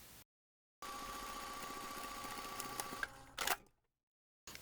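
A sewing machine stitches darts into fabric for a small sunglasses pouch, giving a steady whirring hum with a faint whine for a few seconds before stopping with a brief clatter, set between short silences.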